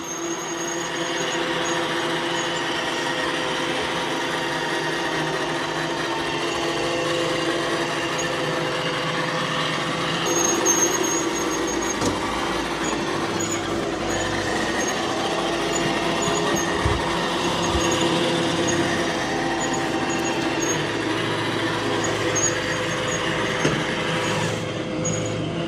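A Shark IQ robot vacuum running around the perimeter of a room, a steady close motor and brush whir that holds level throughout with a few faint knocks.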